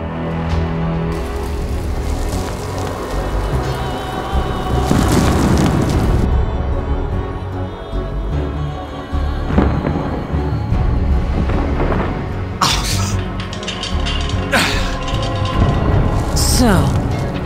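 Heavy, rolling thunder-like booms of an army attacking a fortress in the game Enclave pound continuously and loudly, layered in overlapping rumbles with sharper impacts scattered throughout.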